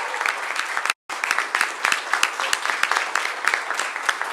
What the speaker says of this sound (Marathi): एकदा सगळ्यांसाठी जोरदार टाळ्या.